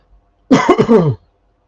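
A single harsh, throaty cough, close and loud, lasting under a second in otherwise near silence.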